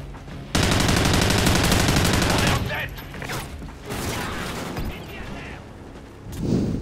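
Rapid machine-gun bursts ring out in Call of Duty: Ghosts, with a long loud stream of fire followed by shorter, choppier bursts and mechanical clatter.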